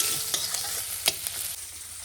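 Ginger fries in oil that sizzles steadily in a pan while it is stirred, with a few sharp scraping clicks of a spoon against the pan.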